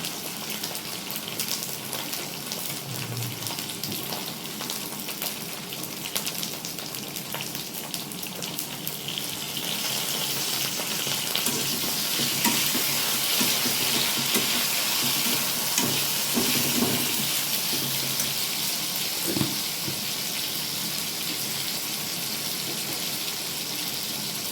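Flat beans and potato frying and being stirred in a pan, giving a steady sizzle with scraping stir strokes that grows a little louder and denser partway through, with no talk.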